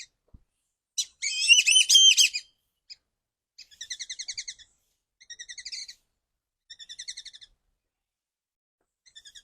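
Whistling ducks at a Costa Rica animal rescue center give clear, high whistled calls, first a loud trilling burst, then several short repeated whistled phrases separated by silence.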